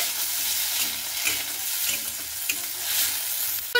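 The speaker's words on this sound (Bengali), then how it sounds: "তো দেখুন আমি কিন্তু টমেটোটাকে দিয়ে খুব ভালো মতো করে একটু নেড়ে দিচ্ছি।" Tomatoes stir-fry in a pan, making a soft hissing sizzle with repeated scraping stirs at an even pace, close up and with no speech.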